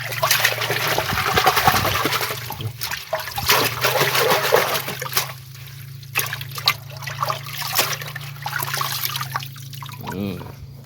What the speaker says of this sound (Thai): ล้างเสื้อเอาขี้ดินออกจากหากมันก่อน